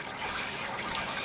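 Hot sparge water at 77 degrees, one litre at a time, poured over a grain mash during all-grain home brewing; a steady, close, continuous splashing wash of water with no voices.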